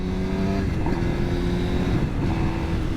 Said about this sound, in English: Roll off the gas, pull in the clutch, kick up the third, let go of the clutch, back on the gas